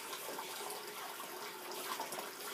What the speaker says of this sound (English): Rinse your brush off.